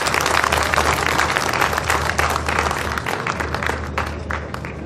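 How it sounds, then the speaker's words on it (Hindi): A large audience at the Sindh Livestock Expo 2021 claps for a guest speaker, dense sustained applause that stays loud and steady throughout, with a faint murmur of crowd voices underneath. "प्लीज तालियां बजा दें अपने मेहमानों के लिए"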